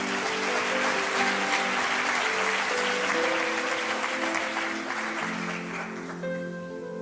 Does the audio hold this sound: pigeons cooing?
no